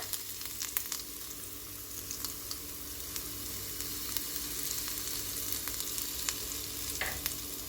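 Ground red pepper sizzles in oil with garlic in a pan on low heat while making a cucumber meze, a soft continuous frying hiss with faint stirring scrapes and clicks throughout, close up and without talk.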